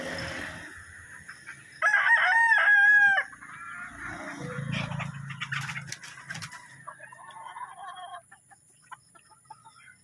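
A Kelso gamefowl rooster gives one loud, close crow lasting about a second, followed by softer clucking and scattered farmyard noises.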